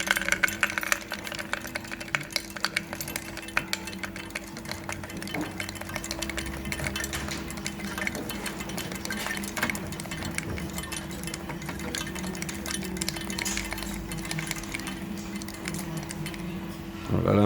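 An LGA coin counting machine runs steadily, its motor humming under a continuous stream of clinking, chinking coins that carries on for the whole span before a louder jolt right at the end; a voice speaks briefly over it.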